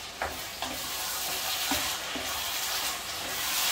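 Freshly cut tomatoes are stirred into callaloo cooking in a pan: a continuous soft sizzle broken by a few quick scraping strokes of the spoon, close and moderately quiet.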